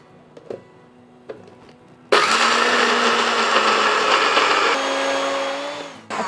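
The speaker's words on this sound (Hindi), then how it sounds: "अच्छा सा मसाले को तो हमने ग्राइंड कर लिया।" A mixer grinder whirs loudly for about four seconds as it pulverises homemade masala spices into fine powder, after a few light taps, then winds down and briefly restarts.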